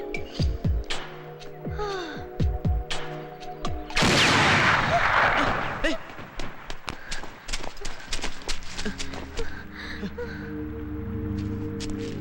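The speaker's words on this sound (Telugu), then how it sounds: "గన్ షాట్ వెళ్ళలేదా?" Gunfire in a Telugu movie scene: scattered sharp cracks, then a dense, loud burst of shots midway, followed by more isolated reports over sustained musical tones and clattering, hoof-like beats.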